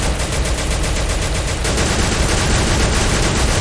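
Dense, continuous gunfire in Free Fire zombie mode fills the whole stretch as a loud, unbroken rattling roar with no speech over it.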